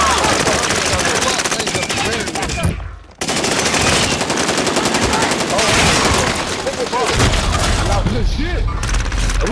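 Dense, continuous video-game gunfire and machine-gun bursts fill nearly the whole stretch, loud and close, with a brief dropout near the middle; voices talk over the shooting.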